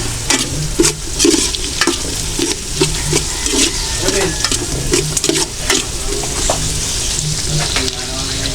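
Fish being sautéed with coconut milk in a pan, a steady broadband sizzle with repeated scraping stirs throughout, fairly close and loud, with no talk.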